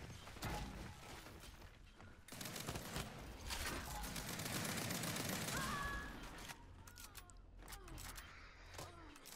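Rapid bursts of gunfire crackle around the player in a ranked Control match of Gears 5, with metallic hits and mechanical clatter, fairly loud and intermittently busy, and a voice faintly audible underneath.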